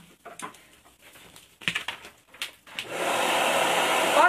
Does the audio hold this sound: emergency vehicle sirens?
no